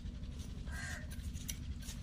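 Crows caw in the distance, a few faint, hoarse calls over a steady low rumble of outdoor background noise.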